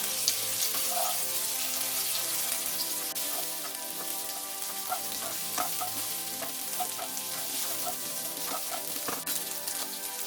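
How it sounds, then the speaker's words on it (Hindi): Baby potatoes fry on high flame in hot oil for Bengali dum aloo, a dense, continuous close sizzle with scattered crackles and occasional stirring clinks throughout, no voices. "हम पोटैटोज को थोड़ा सा फ्राई करेंगे गोल्डन ब्राउन होने तक"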